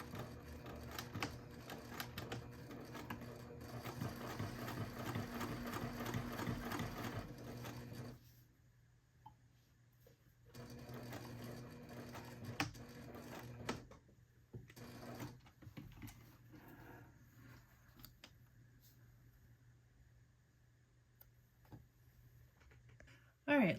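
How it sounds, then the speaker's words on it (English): A sewing machine top stitches along the card slot opening of a tombstone-themed wristlet, a steady mechanical whir running for about eight seconds, stopping, then resuming in shorter bursts with faint talk between. "we're going to top stitch along the second card slot, the card slot opening."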